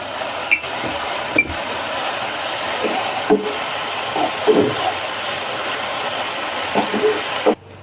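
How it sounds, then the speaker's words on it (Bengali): Washed lentils being stir-fried in a spice masala for a cabbage and masoor dal dish, a steady loud sizzle with intermittent scraping stir strokes throughout, no talking. "এই মশলার মধ্যে আগে থেকে যে ডালটা ধুয়ে রেখেছিলাম এই ডালটা এর মধ্যে দিয়ে আমরা ভালো করে কষিয়ে নেব"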